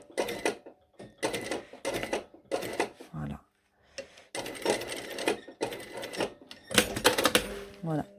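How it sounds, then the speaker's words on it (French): A sewing machine topstitching a zipped fly, running in short repeated bursts of rapid needle clatter separated by brief pauses, close and clear. "on continue la surpiqûre"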